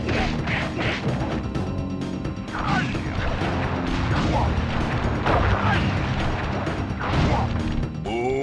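Booming chop cane attack in Sly Cooper and the Thievius Raccoonus, a video game: a rapid, loud series of smashing impacts, whooshes and mechanical clanks that continues without pause.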